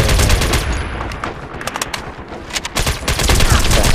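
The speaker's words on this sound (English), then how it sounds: "I'm being shot by Pepper." Rapid gunfire in the online shooter MAG as the player takes hits: dense, close bursts of automatic shots crackling in quick succession, with a short lull in the middle before the firing resumes loudly.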